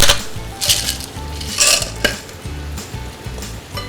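Butter with thyme and garlic sizzles and fries in a pan, a steady crackling bed broken by repeated stirring scrapes and clinks of a utensil against the pan, close and fairly loud with no talking.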